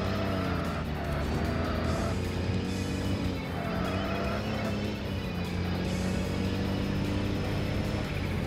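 A car's engine revs hard in Tokyo Xtreme Racer: Zero after a gear drop, a steady loud drone with climbing harmonic tones and faint tire noise running unbroken throughout.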